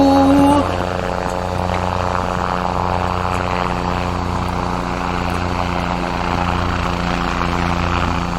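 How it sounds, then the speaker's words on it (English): A big red and white helicopter passing low overhead over a small town, its steady engine and rotor drone sitting loud and continuous throughout. "And then the big red and white helicopter flies low overhead."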